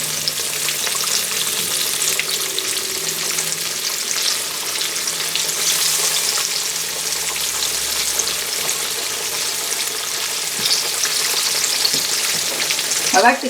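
Green tomatoes in a cornstarch and cornmeal coating fry in hot oil, a steady close hiss of sizzling with occasional crackles, no talking.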